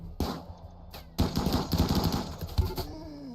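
Rapid bursts of gunfire ring out in a RimWorld raid assault, a quick crack or two and then a dense rattling volley that runs to the end, with no talking over it.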